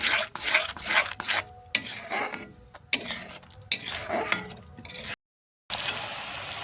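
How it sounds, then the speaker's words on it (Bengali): Chhana being mixed with ghee in a pan, a spoon scraping and rubbing in uneven strokes with occasional metallic clinks, close and steady, then a brief silence. "ঘি দিয়ে এটাকে ভালো করে আবার মিক্স করে নেব"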